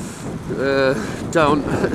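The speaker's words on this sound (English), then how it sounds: "This really is too windy to be any fun." Strong wind buffets the microphone in a steady low roar while riding a Lambretta scooter, with a voice speaking over it in two short bursts.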